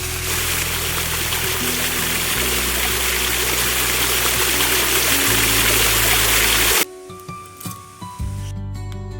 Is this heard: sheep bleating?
no